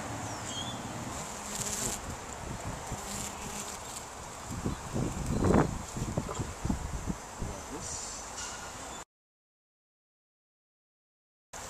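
Honeybees buzz around a hive during a swarm inspection as a continuous close drone with wind and rustling, and a louder burst of activity midway. Brief silence follows near the end.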